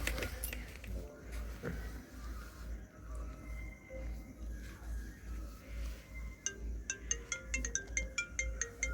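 A mobile phone rings while an outgoing call is placed. The ringtone is a series of repeated short electronic tones that grow more frequent toward the end, over a quiet room with faint background noise.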